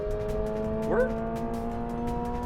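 A stock Subaru BRZ tS with a 228-horsepower engine holds high revs, giving a sustained, fairly faint whine with steady tonal layers and a brief pitch sweep near the middle.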